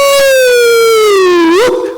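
A person's voice imitates the Jerusalem sunset siren that sounds across the city before the Sabbath, holding one loud, steady wailing tone that slowly falls in pitch, then bends upward briefly near the end and fades.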